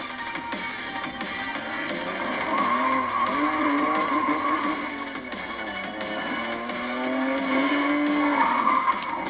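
Porsche 911 racing in a video game, engine revving and tires squealing continuously with rising and falling pitch as it corners, steady and fairly loud throughout with no talking.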